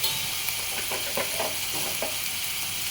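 Masala spices frying in a pan for masala puri, a steady close sizzle and hiss with soft stirring scrapes repeating through it.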